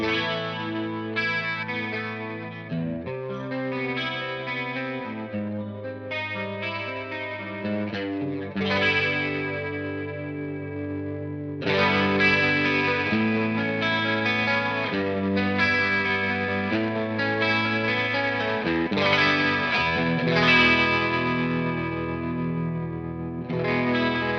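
Electric guitar chords through a cassette tape emulation plugin, with a warbling, wobbly lo-fi tape character, slightly distorted and saturated, playing continuously with no voices.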